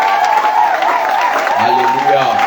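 A church congregation bursts into sustained applause, a dense, loud wash of clapping with cheers, while a voice carries on over it toward the end.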